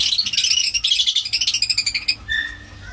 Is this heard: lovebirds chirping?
yes